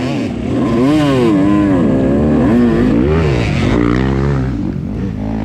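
Dirt bike engine straining on a steep hill during a hare scramble race, loud and close with a sustained wavering drone that rises and falls as the rider struggles in the wrong gear.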